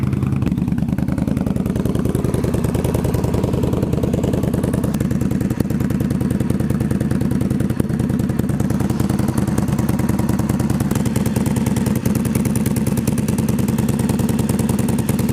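An Indian Scout motorcycle engine idles steadily with an RPW Brave exhaust, a low, rapid exhaust chug and a faint mechanical clatter from an exhaust leak, close and constant throughout.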